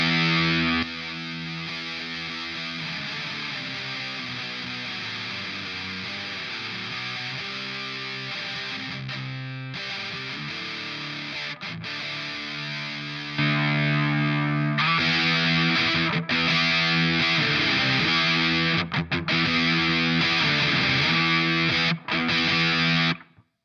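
An electric guitar plays through a Tate FX Sirens Scream distortion pedal, sustained driven chords with fizzy breakup, steady at first, then jumping noticeably louder partway through before cutting off abruptly.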